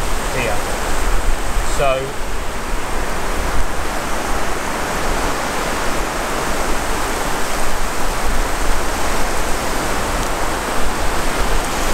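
Incoming tide washing in along the Pembrokeshire coast at dusk, a steady broadband rush of surf close by, continuous and fairly loud, with a brief spoken word early on.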